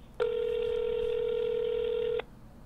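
A single steady telephone tone sounds for about two seconds from a call line, clean and loud, then cuts off abruptly, with faint room noise before and after.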